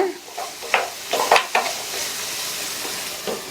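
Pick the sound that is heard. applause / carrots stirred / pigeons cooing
carrots stirred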